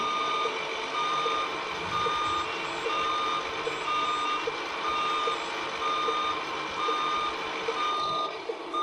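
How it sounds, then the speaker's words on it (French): Tamiya Mercedes-Benz 4151 radio-controlled truck reversing, its electronic reverse alarm sounding a steady, evenly spaced beep about once per second over a low motor hum, with no talking. "Ici on fait marche arrière."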